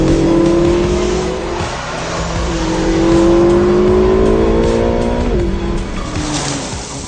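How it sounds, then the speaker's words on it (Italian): Ferrari California T with a turbocharged V8 accelerating hard on mountain roads, a loud, close engine note rising through the gears with a brief tyre squeal and a shift dip, continuous with no talk. "Questa prima parte stiamo sfruttando principalmente le doti di ripresa del nuovo V8 Ferrari, caratterizzato dalla gestione variabile della coppia."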